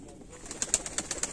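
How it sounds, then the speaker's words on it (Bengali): Pigeons kept in a loft at a roadside stop, cooing and fluttering in short bursts; several soft calls follow one another at close range with a faint background hiss and no talk. "এই দেখো পায়রা উঠছে।"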